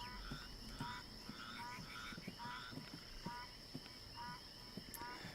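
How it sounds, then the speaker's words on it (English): In the game theHunter Classic at Piccabeen Bay, a chorus of frogs croaks in quick repeated bursts, faint and steady, with a low hum beneath. "Like there's frogs and other things."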